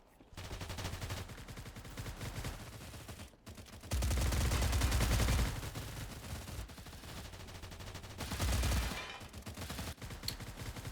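Rapid automatic gunfire from the game Stalcraft: X comes in dense bursts with short gaps between them, and a few louder volleys stand out.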